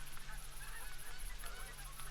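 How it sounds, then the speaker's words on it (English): Geese honking repeatedly in the hunting game theHunter Call of the Wild, a flock of calls close and continuous over a low ambient hum. "So geese are coming in."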